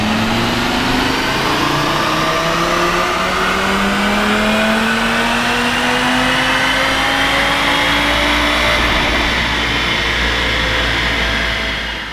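An Audi RS3 on a dyno running a Unitronic flex-fuel tune on high ethanol revs hard through the gears, a loud, close five-cylinder roar climbing steadily in pitch, with no talking.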